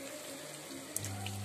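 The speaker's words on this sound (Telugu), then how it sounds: "ఒక చిన్న గ్లాస్ వాటర్ యాడ్ చేయండి" A small glass of water poured into a ridge gourd curry in a home kitchen, a soft steady trickle and splash, faint and close, with no talk.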